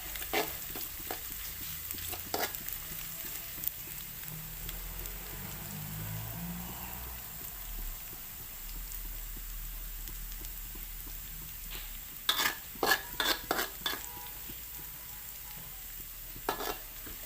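Water spinach stir-fried with canned fish in a hot pan, a steady close sizzle and crackle running throughout, with bursts of sharp clatter from the spatula scraping and tossing near the end.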